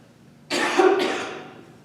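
One close, harsh cough bursts out during a Kundalini yoga breathing exercise, with a quick second push, then fades into quiet breathing.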